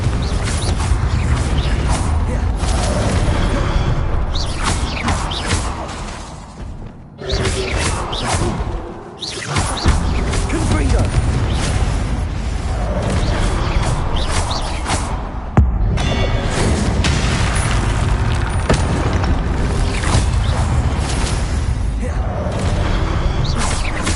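Repeated Confringo blast spells cast in Hogwarts Legacy, a dense, loud barrage of whooshes, crashes and booming impacts with brief gaps, continuing almost without pause.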